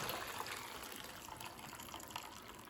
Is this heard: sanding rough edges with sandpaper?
no